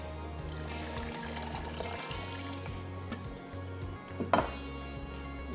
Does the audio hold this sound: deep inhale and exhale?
no